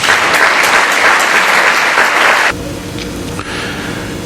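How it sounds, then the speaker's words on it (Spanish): An audience applauds a speaker at a talk on Mexico's future, steady dense clapping from a crowd, loud for a couple of seconds, then thinning and quieter toward the end, with no speech. "les voy a pedir a todos que recibamos un aplauso al señor González."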